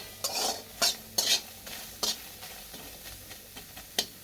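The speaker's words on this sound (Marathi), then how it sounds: "कांदा चांगला फ्राय करून घ्यायचा, म्हणजे तळून घ्यायचा लाल कलरचा चांगला होतो." Chopped onion dry-frying in a hot kadhai without oil, with irregular scraping and stirring strokes over a soft, steady sizzle, fairly close and with no talking.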